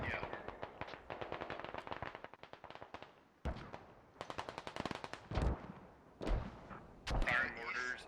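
Mortar and gunfire in the tactical shooter Squad: rapid bursts of automatic fire, then heavy booming impacts, with voices talking over the battle.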